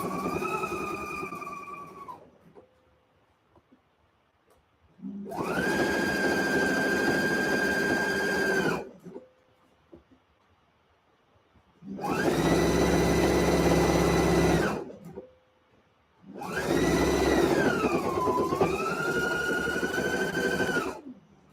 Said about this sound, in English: Almost done with this stitch, y'all.